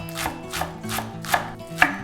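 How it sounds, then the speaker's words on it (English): A knife chops green onions finely on a cutting board, five distinct knocks at a steady rhythm, close and crisp, over soft background music with no voices. "chop the green onions finely"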